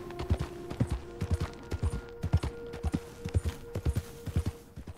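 Horses' hooves clip-clop in a steady, close rhythm as they walk through a camp at night in Red Dead Redemption 2.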